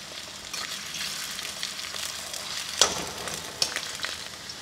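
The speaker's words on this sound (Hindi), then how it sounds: "कम से कम 2 मिनट तक हम आलू को पका लेंगे" Potatoes fry in a pan on medium flame with a steady close sizzle, broken by a couple of sharper scraping stirs and small pops.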